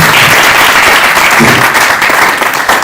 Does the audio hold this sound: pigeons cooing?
no